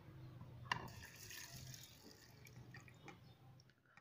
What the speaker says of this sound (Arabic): ونضيفوا عليه زوج كيسان من هادو ماء